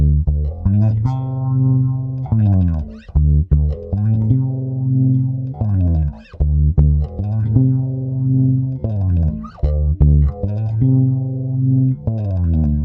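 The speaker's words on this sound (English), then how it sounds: "let's try some phaser, which is not an effect I would normally associate with bass" Bass guitar played through a phaser pedal for a subtle psychedelic tone: loud, close phrases of sustained notes with a slowly sweeping, swirling character, broken by short pauses between riffs, with no voice.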